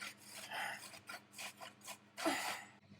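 Food rubbed against a hand grater in a home kitchen while a squash and coconut curry is prepared, giving a series of rhythmic rasping strokes, close and moderately loud, with short pauses between passes.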